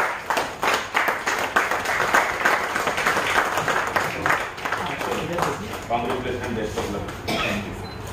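Audience applause welcoming the newly appointed Andhra Pradesh president at an AIAEF central committee meeting in Nagpur, Maharashtra: steady, dense clapping through the whole stretch, with voices and talk running over it.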